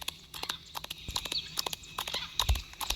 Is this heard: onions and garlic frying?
no